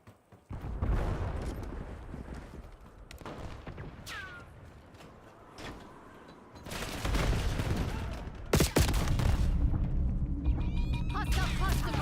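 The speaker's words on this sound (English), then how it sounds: "Hostile cluster grenade." Cluster grenade blasts in a shooter video game, a series of sharp bursts and rumbling booms over gunfire clatter, with tense voices heard among the explosions.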